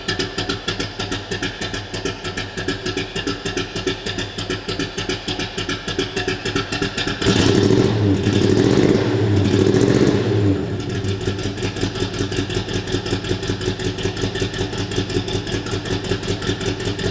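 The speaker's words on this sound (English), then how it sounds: "Engine's nice and quiet." The engine of a 1965 Ford Mustang GT350R tribute restomod with an upgraded cam idles with a lumpy, pulsing beat, swells into a couple of brief revs midway, then settles back to a steady idle.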